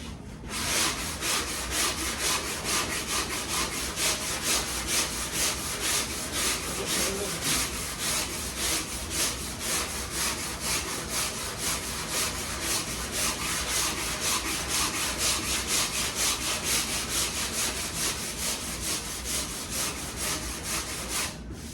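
A hand sanding block scrubs a car body panel down toward bare metal in fast, rhythmic back-and-forth strokes, a loud close rasping that repeats evenly for over twenty seconds without speech.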